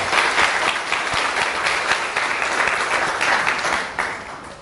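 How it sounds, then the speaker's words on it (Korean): A lecture audience claps together in steady, dense applause that continues for several seconds at a fairly strong, even level and tapers slightly at the very end. "박수 한번 주세요."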